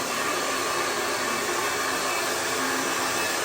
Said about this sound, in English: I'm gonna blow dry a little bit.